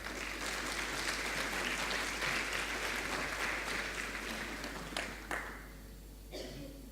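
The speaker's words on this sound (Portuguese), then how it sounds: "a quem peço uma salva de palmas de boas-vindas" A welcoming round of applause from the audience at the opening session of a national vocational training congress, full and sustained, then tapering off near the end with a low hum underneath.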